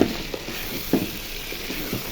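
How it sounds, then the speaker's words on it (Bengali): Meat frying dry in mustard oil in a pot, sizzling steadily while a spoon scrapes and stirs it in a few distinct strokes, close and moderately loud with no talking. "মাংসটা 10 মিনিট ধরে কষাইতেছি"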